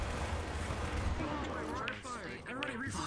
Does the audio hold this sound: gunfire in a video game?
yes